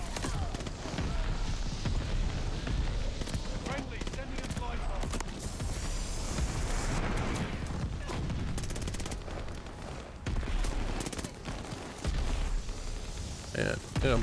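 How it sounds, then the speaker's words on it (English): Dense barrage of explosions and rapid gunfire in Call of Duty: Vanguard, a continuous loud rattle of bursts and booms lasting throughout with no pauses. "A bunch of bombs popping off right now, dude."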